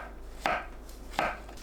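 A knife slices button mushrooms into thick pieces on a cutting board, giving two distinct crisp chops about three quarters of a second apart, close and clear over a quiet background.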